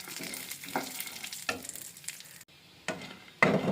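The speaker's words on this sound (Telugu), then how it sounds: "బాదం, అంజీరా, వాల్నట్, కాజు 3 లైట్ బ్రౌన్ కలర్ వచ్చే వరకు ఫ్రై చేసుకుందాము." Almonds, figs, walnuts and cashews fry in ghee in a pan, giving a quiet sizzle broken by several distinct stirring scrapes and clinks, with a brief near-silent gap midway and no talking.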